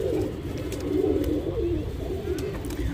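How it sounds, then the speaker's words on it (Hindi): A yellow-eyed male pet pigeon coos close by, a low rolling warble repeated in soft waves over a steady murmur of background noise. "कबूतर है।"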